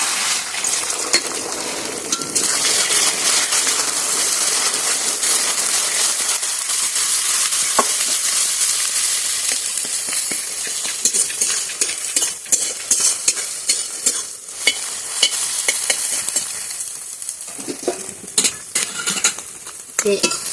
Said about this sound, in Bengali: তেলটাও দেখো আমার গরম হয়ে গেছে। এবার ডিমটা ভেজে নিচ্ছি।